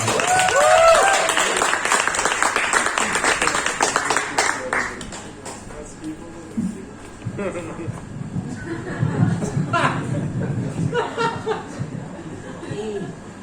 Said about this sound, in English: please give a round of applause to Martha!